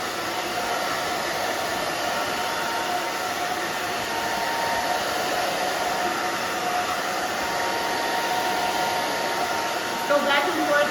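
A hair dryer blows steadily at close range while drying a woman's short pixie cut, a constant loud whooshing roar held throughout, with a brief clicking near the end.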